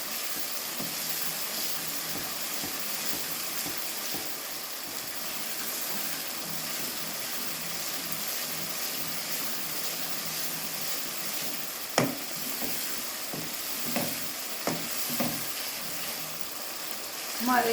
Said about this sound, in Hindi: 1/2 टीस्पून ये हल्दी है, अब इसको अच्छी तरह भून लेंगे।